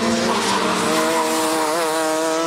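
Rotax racing karts in a heavy-class final run loudly past on a circuit, a steady high engine whine with harmonics that shift in pitch, plus tire squeal and skidding noise throughout, with no one talking.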